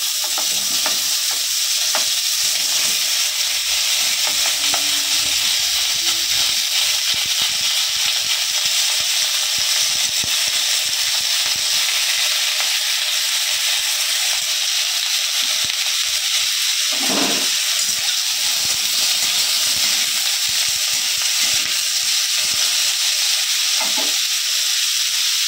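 Diced bottle gourd pieces fry in a pan with a loud, continuous sizzle, while a utensil stirs them in irregular scraping strokes with occasional knocks, running steadily for about twenty-five seconds.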